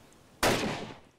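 One sharp, loud gunshot in GTA V, a sudden blast with a short fading tail after a quiet lead-in.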